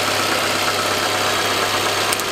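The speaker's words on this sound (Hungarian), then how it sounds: "járó motornál ezt kell neki tudnia" A car engine idling during a battery and alternator test, a steady, dense mechanical hum heard up close, unbroken and without speech.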